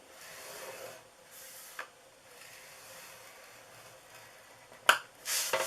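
Paper being scored by hand for a DIY Christmas gift box: soft scraping strokes close by, with a couple of sharp clicks and a brief louder rustle toward the end.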